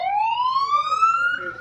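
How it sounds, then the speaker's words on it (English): A fire department vehicle siren in a Christmas parade wails in a single rising sweep, loud and close, with faint background noise beneath it. "And lots of sirens going."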